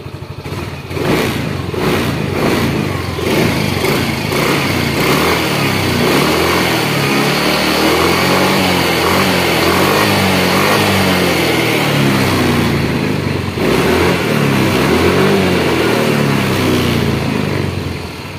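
A Yamaha Mio M3 scooter engine idles steadily and loudly up close, with a rattly, clattering texture and a slight rise in pitch near the end; no one speaks.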